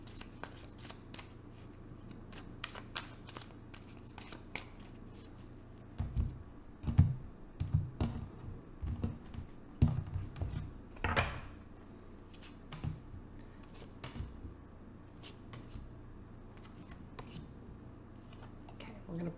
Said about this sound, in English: 2 more shuffles, and we'll pull your cards.